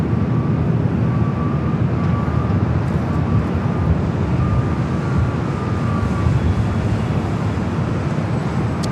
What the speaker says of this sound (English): That is Alaska Airlines Flight 1315 heading to Portland and now rolling down at 24 left.